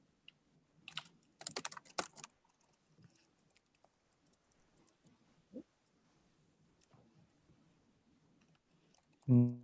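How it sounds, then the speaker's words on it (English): Typing on a computer keyboard during an online video meeting, short bursts of close clicking keys, with faint voices murmuring and a brief loud sound at the end. "Would you mind just typing those titles into the chat?"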